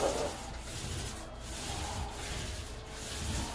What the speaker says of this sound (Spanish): Le vamos a dar dos capas, para que quede más grueso el primer